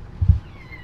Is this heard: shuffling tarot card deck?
no